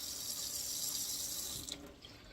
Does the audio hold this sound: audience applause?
no